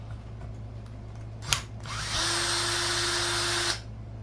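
A power drill fitted with a clutch removes a bolt on a Kraton 6S RC car arm: a sharp click, then a loud steady whirring run of about a second and a half that cuts off abruptly, heard close with no talk.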